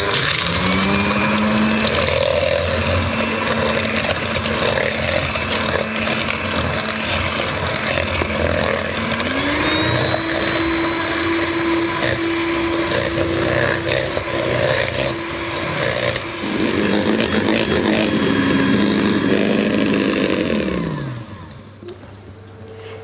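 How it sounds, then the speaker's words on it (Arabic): An electric mixer whips eggs for Spanish madeleines, a loud, continuous motor whine that shifts pitch a few times as the speed changes and then winds down at the end, close by and alone. "دابا غادي نخدم هذا البيض مزيان حتى يضاعف الحجم ديالو"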